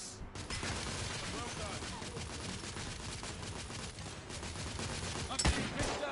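Dense, continuous gunfire from blind firing out of cover in the video game The Order: 1886, a steady crackle of overlapping shots with a brief sharper burst near the end and faint voices mixed in.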